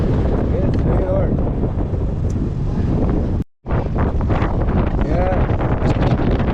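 Wind buffets the microphone on a Yamaha Majesty 400 scooter ride on a gusty day, a loud, continuous low roar with a brief sudden dropout midway. Faint voices sit under the rumble.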